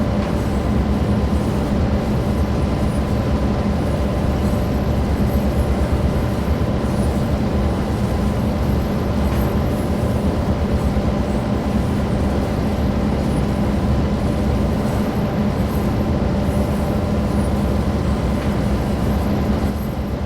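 Locomotive engines in the Train Sim World 2 game drone in a steady, loud, continuous rumble as a train labors on a gradient, with no voices over the sound.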